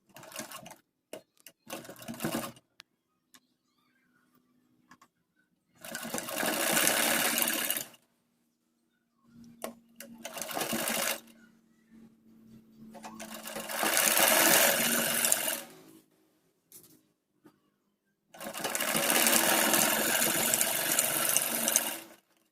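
A sewing machine stitches a kurti side seam from the armhole down to the hip mark in four or five separate runs of rapid whirring, each several seconds long, split by quiet pauses with small handling clicks and no talking.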